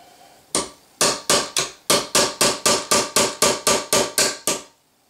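Fourteen sharp metallic hammer blows drive a rivet out of a Saiga 7.62 rifle receiver, struck close up in a steady, even rhythm after one opening hit, ending abruptly.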